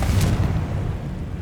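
A Confringo spell in Hogwarts Legacy goes off as one deep, booming blast that rumbles and fades over about a second, loud and close with no voices.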